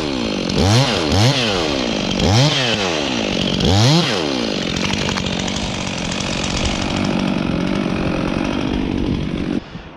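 A Stihl 362 chainsaw revs loudly several times in quick rising bursts, then settles into a sustained, high-pitched roar as it cuts a large tree, close up.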